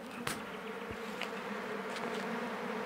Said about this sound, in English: we just open the beehive